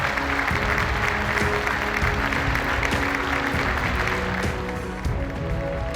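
Sustained applause from a standing chamber in the US Congress welcoming Volodymyr Zelensky, dense and loud clapping from a large crowd that holds steady throughout, easing slightly toward the end.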